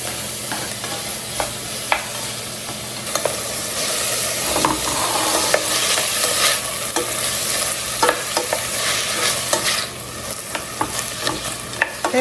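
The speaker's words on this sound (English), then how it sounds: "gonna saute those vegetables until they are nice and soft" Diced bell peppers, garlic and jalapenos sauté in a hot pan, giving a steady sizzle and hiss with frequent scraping stirs throughout, close and fairly loud, with no talk.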